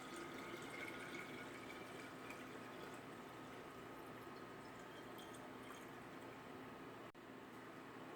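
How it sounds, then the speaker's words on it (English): Filtered water runs steadily into a bottle of homemade ginger beer, a soft continuous close-up pouring and trickling that goes on for several seconds with only a brief dip near the end. "I'm going to top it off with filtered water"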